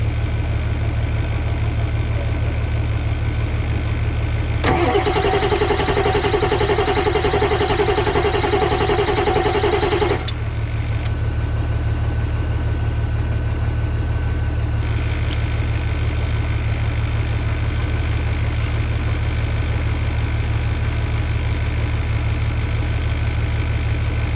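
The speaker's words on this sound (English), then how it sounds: "We can crank." A Ford 7.3 Powerstroke diesel engine cranks loudly for about five seconds, then the starter cuts off, with a steady low drone underneath throughout.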